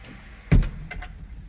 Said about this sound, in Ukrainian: Ви натискаєте відкрити двері, двері відкриваються